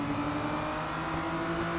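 A race car in the Real Racing 3 mobile game holds a steady engine drone as it nears a corner under braking, loud and continuous with no talk.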